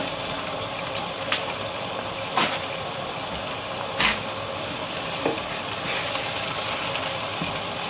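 Shrimp go into a pot of okra soup with spinach and fried base, giving a steady close sizzle and frying hiss with a few sharp clinks and scrapes of stirring scattered throughout.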